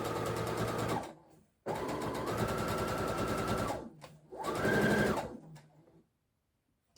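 A sewing machine stitches a pocket seam on a jumpsuit in three close, loud bursts of rapid mechanical chatter, separated by short pauses, before falling silent.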